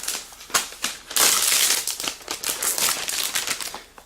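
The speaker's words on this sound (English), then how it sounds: "Let's go ahead and peel off the plastic." Protective plastic film being peeled off a new 11.6-inch MacBook Air, heard up close as a series of crinkling, crackling tears and rustles, some sharp and some drawn out, with no talking.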